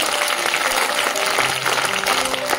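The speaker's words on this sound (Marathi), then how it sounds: "मग त्यांच्यासाठी एकदा वर हात करून जोरदार टाळ्या झाल्या पाहिजे की नाही?" Loud, steady applause from a room of schoolchildren at a school Women's Day event, dense clapping filling the whole stretch with a faint murmur of voices beneath.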